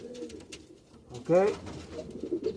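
Pouter pigeons at a show coo close by in one short, wavering burst, with someone talking before and after.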